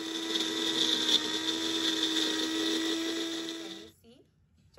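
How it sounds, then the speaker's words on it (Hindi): A mixer grinder runs steadily, blending green chili chutney with water into a loud, even whirring drone that cuts off abruptly near the end and leaves near silence. "सब चीजें मिक्स कर ली है और अब हम इसे ग्राइंड कर लेंगे"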